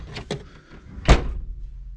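A Rover SD1 car door on an abandoned project car opens with a couple of quick clicks from the latch followed by a single solid thunk, close by, then a low quiet rumble.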